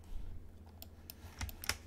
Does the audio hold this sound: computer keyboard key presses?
yes